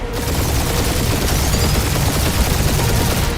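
In the Guardians of the Galaxy video game, a sustained barrage of gunfire rattles nonstop, loud and dense, with rapid overlapping shots and booms filling the whole stretch.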